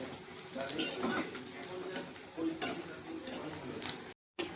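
Chopped onion fries in oil in a pan for a prawn and taro-paste (kochu bata) dish, giving a soft sizzle broken by clattering stirring and pan knocks nearby.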